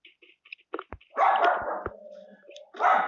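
A small pet dog barks in a few sharp yips, then breaks into longer, louder barks and whines, close and with no one talking.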